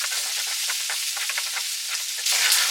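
Diced red onions hitting a hot pan and sizzling, a bright steady hiss with crackling bursts that swells louder near the end, no talk.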